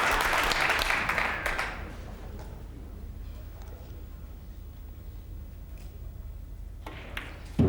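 The crowd at a 2006 Mosconi Cup pool match in Rotterdam applauds loudly for about a second and a half, then the clapping fades away into quiet arena ambience.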